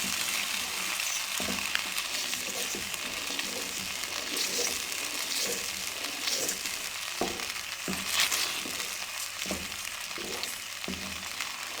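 Semolina roasts in hot ghee for guthli wala halwa, giving a steady frying sizzle broken by repeated scraping knocks of a spoon stirring the pan.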